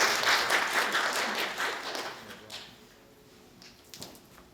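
Applause at an awards ceremony for a national unification arts contest: a burst of clapping from the audience that fades after a couple of seconds, followed by a few stray claps.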